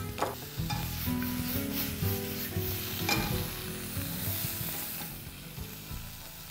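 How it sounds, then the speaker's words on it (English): Calamari frying quickly in butter in a pan, a busy close sizzle with scraping, stirring strokes and small pops throughout, no voices. "So it's a really quick fry so that it keeps them nice and tender."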